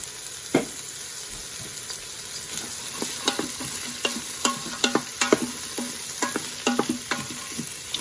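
Celery and colorful vegetables sizzling in a pan with a steady frying hiss, while a utensil stirs and scrapes them in repeated close clacks.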